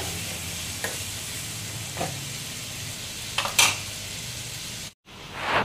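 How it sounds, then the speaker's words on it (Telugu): Chicken pieces frying with salt in a pan for a gonguura curry, a steady close sizzle with occasional scraping stirs and metallic clinks, then a brief cut-out before the sizzle swells again. "ఫస్ట్ ముక్కలు ఇలా కొంచెం ఉప్పు వేసేసుకొని ఫ్రై చేసుకోవాలి."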